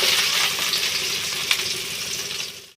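Onion with cardamom, cinnamon and cloves fries in a pan for a macaroni dish, giving a loud, continuous close sizzle with light stirring scrapes that stops abruptly at the end.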